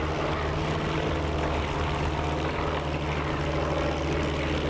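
A P-47 Thunderbolt's propeller engine drones in a World War II flight game during takeoff, a loud continuous low roar with a steady throb and no voices.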